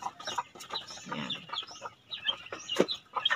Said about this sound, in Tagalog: nagpapakain na naman ako ng aking native na manok